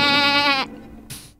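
A black goat in the video game Rule of Rose lets out a single loud, close bleat lasting just over half a second, followed by a short faint rustle.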